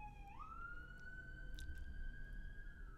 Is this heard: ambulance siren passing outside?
yes